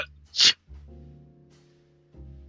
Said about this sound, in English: Despite my attempts to suppress the sneeze, the sound erupts loudly.